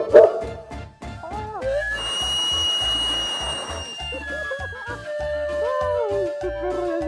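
A sweet potato vendor's cart steam whistle shrieks steadily and piercingly for a couple of seconds while a dog whines and howls along with it, up close.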